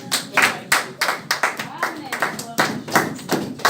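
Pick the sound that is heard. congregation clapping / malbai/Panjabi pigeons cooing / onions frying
congregation clapping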